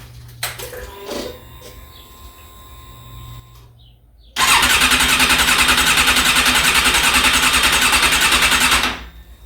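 A Suzuki Bandit 650 S motorcycle engine cranks and catches, then idles loudly and steadily for several seconds before cutting off, after quieter workshop clatter and a faint hum.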